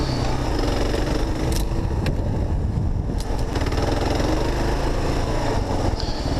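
KLR650 dual sport motorcycle engine droning steadily and loud on a logging road in the Oregon Coast Range, a continuous close engine note with no pauses.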